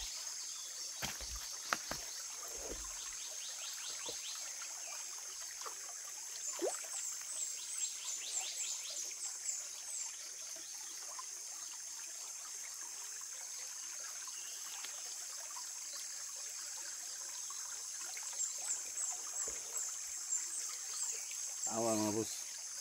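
A creek on a rural farm trickles steadily at low volume, with a constant high insect drone over it and a few brief voices and knocks.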